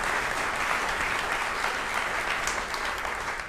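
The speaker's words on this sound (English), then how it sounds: "And yes, we can applaud that." Sustained audience applause fills a workforce development executive order signing ceremony, steady and dense from start to finish with no talk over it.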